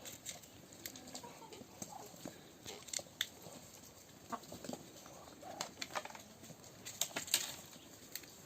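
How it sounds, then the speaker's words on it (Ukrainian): Soft scratching, pecking and light footsteps of a chicken moving around nearby, with occasional sharp clicks and taps, no talking. "Курка ходить, дивиться, хоче вилізти, а нема кудою."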